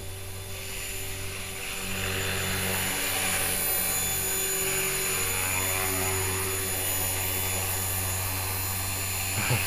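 An HK-450GT flybarless RC helicopter, freshly rebuilt, whines steadily through a gentle test flight and landing, its rotor and motor hum holding a constant pitch close to the microphone with no talking.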